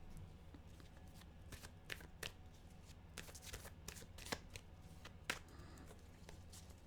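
Tarot cards being shuffled by hand, a quiet run of crisp riffling snaps and soft slaps that come irregularly and close up, with no talking.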